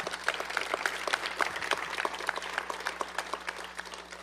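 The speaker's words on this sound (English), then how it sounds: "Let's give them a round of applause" Audience applause at a groundbreaking ceremony for veterans housing, a moderate crowd clapping with distinct, fairly sparse individual claps heard close and clear, steady throughout, with no talking.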